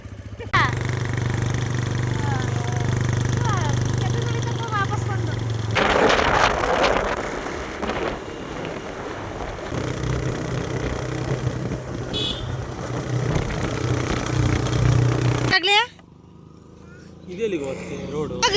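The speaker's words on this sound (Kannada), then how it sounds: "ಅಭಿ ಇನ್ಮೇಲೆ ನಂಬಿಕೆ ಇಟ್ಟು ಬೈಕ್ ಹತ್ತುತ್ತದೀನಿ." A motorcycle engine runs steadily during a ride to the Seege Gudda hill shrine, a loud continuous drone with shifting tone and bursts of wind, while people talk over it; near the end the engine drops away.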